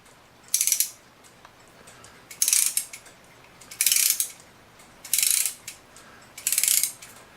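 The mainspring of a 1904 Chelsea regulator clock in mahogany is wound by hand: five bursts of bright ratcheting clicks, evenly spaced about 1.4 seconds apart, each separated by a quiet pause, close and loud, with no voices.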